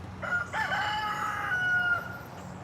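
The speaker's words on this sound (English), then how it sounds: "Hey, Rooster, do that again." A rooster crows once in a full cock-a-doodle-doo, a loud, rising-then-sustained call close by with some background hum.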